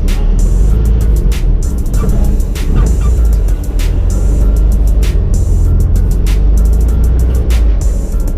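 A 1961 Volkswagen pulling in, with a loud, close engine rumble and tire noise running steadily throughout, broken by frequent short ticks and clatters.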